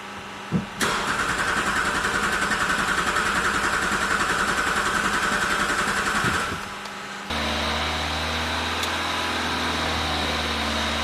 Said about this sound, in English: So we'll try for a restart again there now. And it won't restart.